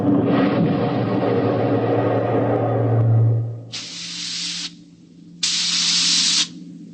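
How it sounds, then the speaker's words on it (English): Steam bursts hiss through a spaceship's steering tubes in a dramatized sci-fi scene, a long rumbling blast with a low hum followed by two sharp separate hissing spurts, loud and close. "We could hear the desperate bursts of steam through the steering tubes"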